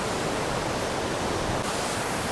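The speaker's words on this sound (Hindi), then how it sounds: "ये देखिए भाई कितना ज़्यादा वेग के साथ इस समय गंगा माँ बह रही है भाई" The Ganges near Gangotri roars past in a swollen, fast current with rapids and waves several feet high, a loud, continuous broadband rush of water that holds steady throughout.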